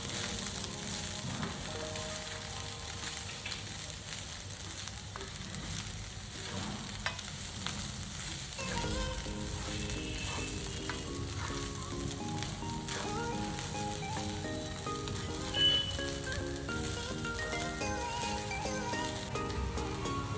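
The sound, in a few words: soaked poha added to a pan and mixed, sizzling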